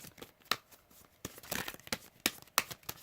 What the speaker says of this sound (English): Shuffling the romance deck to see if any of the self cards come out